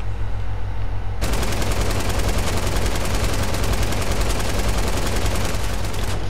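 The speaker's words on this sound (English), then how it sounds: "I swear this gun never hits." Sustained rapid automatic gunfire in Fortnite, a dense run of shots that starts abruptly after a quieter opening second and continues loudly to the end with no talk over it.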